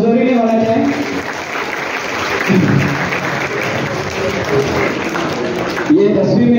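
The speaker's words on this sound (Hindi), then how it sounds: "तालियों में कमजोरी नहीं होना चाहिए।" At a school prize distribution, the audience claps through the middle, a broad wash of applause while people speak over it at the start and end.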